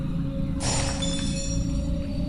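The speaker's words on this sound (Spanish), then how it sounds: "escuché como un frasco de jarabe cayó al suelo" A glass syrup bottle falls and shatters on the floor of a pharmacy at night, one sharp, close crash of breaking glass with a bright ringing tail, over a steady electrical hum.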